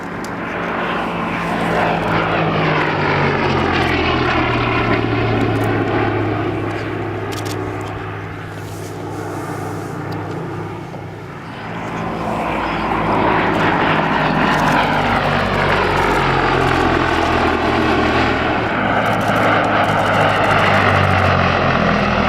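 A Gloster Gladiator propeller biplane flying at an airshow, its piston engine droning loud and continuous, swelling as it passes overhead, fading briefly, then building again, with no talking.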